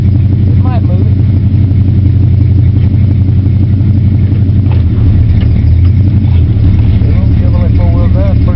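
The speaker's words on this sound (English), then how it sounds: "Chevrolet 4-wheel drive, pretty tough." A 4-wheel drive Chevrolet K10 truck engine rumbles steadily while pulling a trunk apart, a loud, continuous low drone with a shift in pitch partway through and faint background voices.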